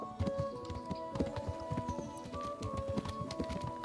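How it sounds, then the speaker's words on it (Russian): A horse gallops in the Kingdom Come: Deliverance video game, with rapid, steady hoofbeats and a busy layered thudding rhythm under a continuous background of game ambience and music. "Гонки на лошадях."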